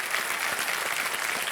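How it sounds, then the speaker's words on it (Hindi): Studio audience on a television quiz show bursts into brief, dense applause, a steady wash of many hands clapping together with no talking over it. "अगर आप सही उत्तर देंगे तो वो ताली बजाएगी।"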